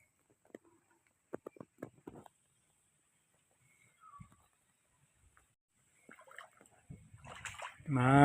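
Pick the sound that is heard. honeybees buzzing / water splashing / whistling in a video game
water splashing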